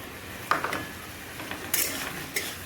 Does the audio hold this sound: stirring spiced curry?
yes